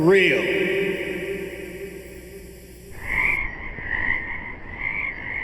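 Frogs croak outdoors in a loud, pulsing chorus of repeated rasping calls, preceded by a few seconds of other tonal sound.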